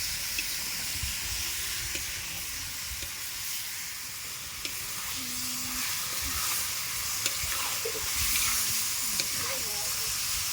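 About three kilograms of duck meat fries in a spice paste in a large pot, giving a steady, hissing sizzle with occasional stirring knocks and steam, while a voice murmurs faintly in the background.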